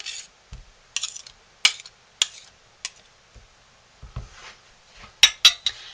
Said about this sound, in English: let's get our spoon clean